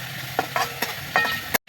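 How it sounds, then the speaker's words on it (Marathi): Black and red chili powder with curry masala sautéing in a pan for bombil chutney, with a steady sizzle broken by several short scraping stirs, close and fairly loud, cutting off abruptly near the end. "यात आपण अर्धा चमचा काळं तिखट, अर्धा चमचा लाल तिखट, थोडासा कढीचा मसाला चांगला परतून घेणार आहोत"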